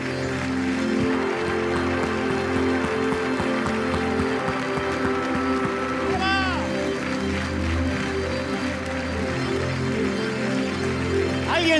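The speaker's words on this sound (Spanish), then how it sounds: "Dale ese aplauso." Church congregation applauding and cheering, a sustained crowd clapping wash with background music and voices mixed in, loud and continuous throughout.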